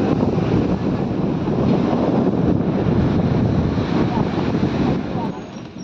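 Sea waves and strong wind on the way to Devgad beach, a loud, continuous roar of surf mixed with buffeting wind across the whole stretch, easing slightly at the end.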